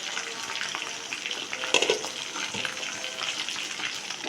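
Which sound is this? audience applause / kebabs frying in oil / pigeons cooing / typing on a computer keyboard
kebabs frying in oil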